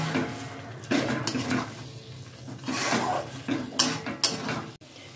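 A utensil scrapes and clatters against a pan while fried fenugreek greens and peas are stirred together, giving irregular metallic scrapes and knocks at close range with no talking.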